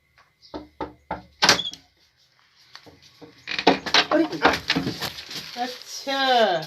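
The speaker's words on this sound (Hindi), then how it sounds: "वो खटखटाहट सुनी" Several sharp knocks on a door come in a quick series in a comedy sketch scene, followed by people talking loudly.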